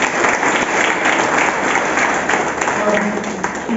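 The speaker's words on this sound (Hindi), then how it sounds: "उनके लिए तालियां बजाएंगे।" Audience at a Rajyoga meditation gathering applauding steadily, a dense, loud wash of many hands clapping for about four seconds, with a few voices faintly underneath.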